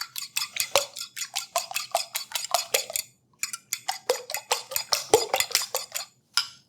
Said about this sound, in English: I'm going to go ahead and beat the eggs.